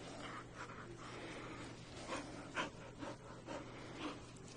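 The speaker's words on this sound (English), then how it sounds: "Listen, she's like panting." A dog, a female, pants in quick, soft, rhythmic breaths close by, faint against a steady hiss and low hum, with no talking.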